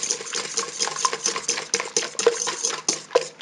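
Sugar and three whole eggs hand-blended for donut dough, a quick rhythmic run of whisk or spoon strokes clinking and tapping against the bowl, close and alone.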